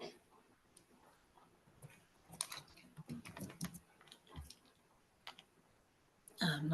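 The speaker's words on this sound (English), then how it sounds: "I'm not very good at typing" Typing on a computer keyboard: irregular bursts of light clicks and taps close by, some quick clusters and pauses, fairly quiet overall.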